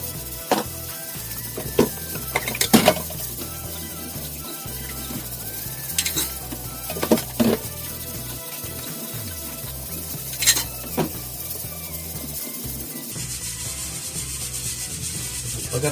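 Dishes and pots get washed by hand in a home kitchen in Finland, with steady close scrubbing and rubbing, running water, and occasional sharp clinks and clatters of cookware.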